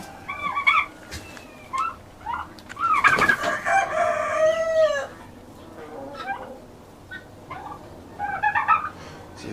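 Farm fowl call out nearby, with chickens clucking and a rooster crowing among gobbling turkeys in scattered bursts, moderately loud over a quiet outdoor background.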